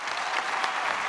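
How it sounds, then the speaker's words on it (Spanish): A live audience at a Spanish-language talk show applauds steadily for a brief moment, dense and even with no talking. "Un aplauso para el maestro."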